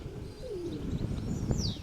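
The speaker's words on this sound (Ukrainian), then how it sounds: "Це моя найкраща голубка з кокардочним голубом." A pigeon coos softly with a low, wavering call, accompanied by a few faint chirps, likely from a young pigeon, against quiet background noise.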